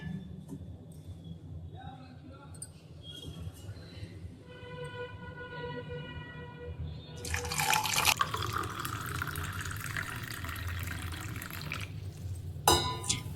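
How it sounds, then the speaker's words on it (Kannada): Lukewarm water is poured into a glass and stirred into a drink, a steady tap-like stream that swells into a louder, fuller splash partway through before a brief clink near the end, with faint background noise throughout. "ಇವಾಗ ಇದಕ್ಕೆ ಸ್ವಲ್ಪ ಉಗುರು ಬೆಚ್ಚಗಿರೋ ನೀರನ್ನು ಹಾಕ್ಕೊಂಡು ಮಿಕ್ಸ್ ಮಾಡಿಕೊಂಡು ಕುಡಿತೀವಿ"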